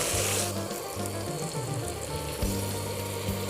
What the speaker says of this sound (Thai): พอน้ำมันเดือดแล้วก็ใส่พริกลงไปนะคะ ผัดพริกให้เหลืองก่อนนะคะ